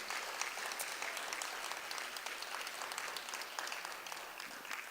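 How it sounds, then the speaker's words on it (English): An audience at a school presentation claps steadily for several seconds, a dense, even patter of many hands with no voices over it. "please give Amy a round of applause for all the work that she's done"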